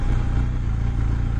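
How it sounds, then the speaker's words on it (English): BMW R 1250 GS boxer motorcycle engine braking while riding, a continuous low pulsing engine throb with a faint clatter, moderately loud and steady, without speech. "there's that engine braking you get when you hit the brake"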